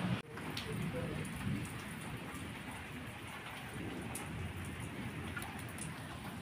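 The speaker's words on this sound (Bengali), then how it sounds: "দেখো কেমন বৃষ্টি পড়ছে।" Steady rain falls on surfaces close by, a dense continuous hiss with scattered drop patter and a faint low rumble beneath, running unbroken and with no talk.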